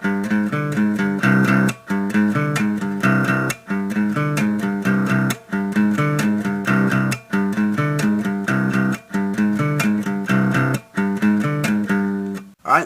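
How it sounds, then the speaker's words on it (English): An electric guitar repeats the first part of a song's main riff for the intro, a chugging pattern looping several times with brief breaks, loud and unaccompanied. "So for the intro, we do the first part of the main riff 7 times."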